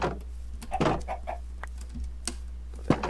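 Chickens in the video game Minecraft give short, scattered clucks, fairly quiet and close, with brief pauses between calls and no talking.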